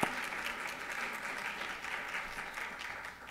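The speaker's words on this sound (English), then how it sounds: "Another round of applause." A conference audience gives a round of applause at a data centers and climate event, steady dense clapping throughout with no speech.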